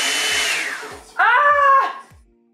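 A Philips HP8657 hair dryer volumizer runs with a loud, close whirring blow whose pitch dips, then shifts to a higher whine for a moment before winding down to silence.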